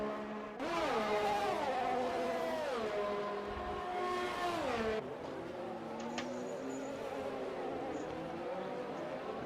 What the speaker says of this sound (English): there's a bit of a rev glitch on James